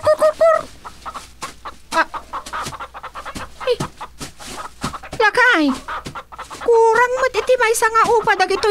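Chickens cluck and squawk close by in an irregular series, mixed with people talking over them.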